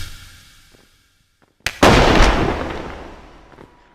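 A gunshot from a gun in the Animal Company VR game goes off once, loud and close, after a quiet stretch, then a long booming decay that fades over two seconds.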